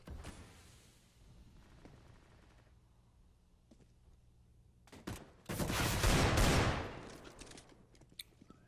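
Gunfire in a Rainbow Six Siege esports match: scattered shots early on, then a loud, sustained burst of rapid automatic fire, followed by a few trailing single cracks.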